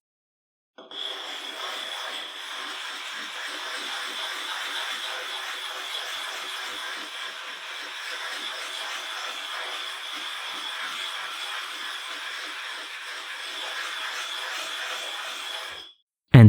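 A whetstone is rubbed flat against a leveling stone, giving a steady, gritty grinding rasp that starts abruptly, keeps an even rhythm for about fifteen seconds and then stops.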